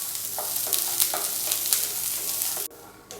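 Peanuts roast and are stirred in a pan, a steady dry sizzling hiss broken by scraping stir strokes, before cutting off abruptly near the end.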